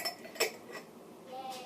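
An old glass jam jar with a lid being handled, giving two or three faint light clinks and taps, then quiet handling noise.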